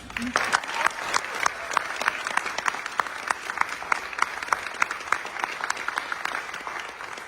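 An audience at an education candidate forum applauds the candidates, a steady wash of many hands clapping with sharp individual claps standing out, moderately loud and sustained throughout.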